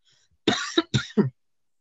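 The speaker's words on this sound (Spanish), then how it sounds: "De antemano les ofrezco 1000 disculpas por la tos" Two quick, harsh coughs or throat clears in close succession, loud and near, with silence before and after.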